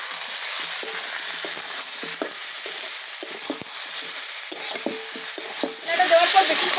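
Vegetables fry in a pan with turmeric, chilli powder and salt, a steady close sizzle broken by repeated scraping and tapping stirring strokes, swelling into a louder hiss near the end.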